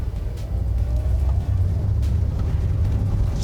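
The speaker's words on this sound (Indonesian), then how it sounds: "suara luarnya masuk sih, road noise-nya masuk teman-teman" Road noise inside a 2007 Suzuki Swift GL driving over paving: a continuous deep rumble fills the cabin, steady and fairly loud, with no talk.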